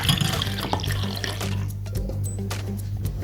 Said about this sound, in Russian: Наливаем молочко.